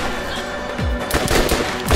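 Rapid gunfire in the video game Borderlands: after a brief quieter lead-in, a dense, loud burst of automatic shots rattles on steadily and close up, with no talking over it.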